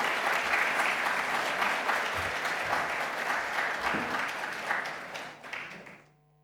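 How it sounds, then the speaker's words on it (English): An audience at the opening ceremony of the ADEA 2022 Triennale applauds to welcome the executive secretary, a dense sustained wash of clapping that thins and fades out at the end. "veuillez accueillir sous vos applaudissements le secrétaire exécutif de l'ADEA"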